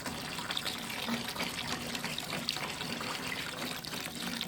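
Spirit or ethanol is poured into a batch of homemade liquid hand sanitizer, a steady, close gushing stream of liquid that holds without break and at an even level.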